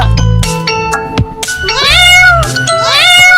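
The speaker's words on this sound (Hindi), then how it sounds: "ये तो म्याऊ म्याऊ क्यों कर रहा है?" Several short kitten meows, close and fairly loud, with brief clicks and tinkling knocks in between, then two longer plaintive mews.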